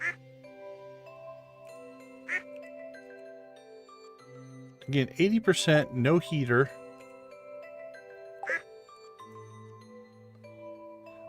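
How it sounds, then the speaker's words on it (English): Ducks quack in short bursts in the Stardew Valley video game, set against soft game music and chimes, while a person talks over the top; the quacking stays fairly quiet and mixes in with the other game sounds. "Just checking on our ducks."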